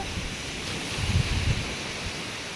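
Sea waves surging onto the shore at a coastal beach, heard as a steady broadband wash with a louder low rumbling swell in the middle, mixed with wind noise on the microphone.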